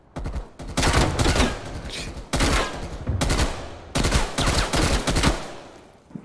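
In Call of Duty: Warzone, rapid automatic gunfire comes in three loud, dense bursts of several seconds each, separated by brief pauses, with no talk over the shots.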